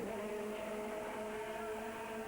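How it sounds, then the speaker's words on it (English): Race car engine at an FIA GT event sputtering and failing to restart in the pit lane, a steady, faint mechanical drone with tonal harmonics and no clear catch or firing bursts. "Once again, it spurts, but it's just not rolling."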